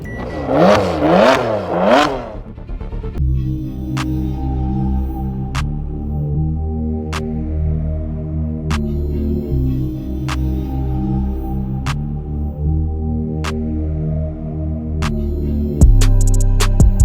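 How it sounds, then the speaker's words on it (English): A Mazda RX-8 rotary engine runs with a rough, erratic idle. After a few revving surges, it settles into a loud, uneven low thrum, with regular clicks or ticks and wavering pitch, then a heavier shudder at the very end. "RX-8 working really horribly. Look at the RPMs. Look at what it's doing. It's got some kind of weird idle issue"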